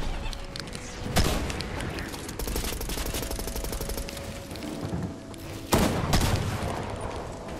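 Shotgun blasts in a first-person shooter video game, a few sharp loud booms spaced apart over busy rattling background gunfire and game effects.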